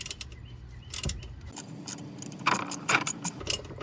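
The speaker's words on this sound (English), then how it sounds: "we're going to use a ratchet and a socket to break that loose" A ratchet and socket break loose the 13mm oil drain bolt on a Jeep Compass or Patriot, giving a few close, sharp metallic clicks and rattles in short irregular bursts.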